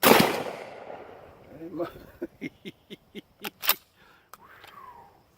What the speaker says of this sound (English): That's some kicking shotgun shells right there.